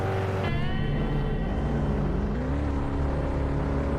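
A truck engine in the video game Dangerous Truck Driving drones with a thin, buzzy, lawnmower-like tone, steady and moderately loud, its pitch climbing slightly after a sudden change in sound near the start.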